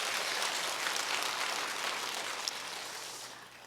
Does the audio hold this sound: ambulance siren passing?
no